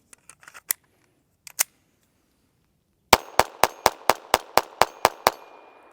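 Glock 44 .22LR pistol firing CCI standard velocity ammunition at a silhouette target: a few faint scattered clicks, then about ten sharp, closely spaced shots in a quick, even string, with no talking.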